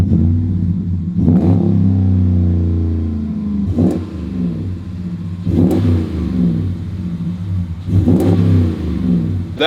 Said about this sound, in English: That is the MagnaFlow Street Series Performance Catback Exhaust from MagnaFlow